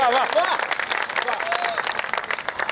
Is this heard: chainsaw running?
no